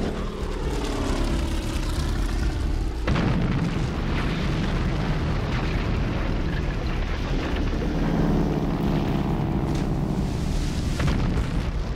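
Bombs explode on battleships during the Pearl Harbor attack, with loud, continuous heavy blasts and roaring booms mixed with the drone of aircraft propellers overhead, dense and close throughout.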